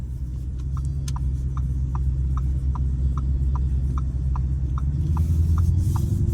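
A Lamborghini Urus with a V8 rolls slowly through a neighbourhood, giving a low, steady engine hum heard from inside. Faint regular ticks run over it, and the engine note deepens near the end.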